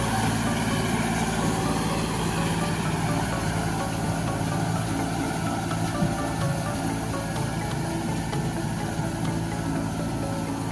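A heavy diesel engine of a large Kubota L402 tractor with rotary tiller runs steadily and loudly throughout, a constant rumbling drone with mechanical vibration and no pauses.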